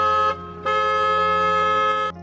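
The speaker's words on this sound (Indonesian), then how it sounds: "ada sebuah mobil yang membunyikan klakson berkali-kali" A car horn blares in two long honks, the first short and the second held much longer, loud and steady.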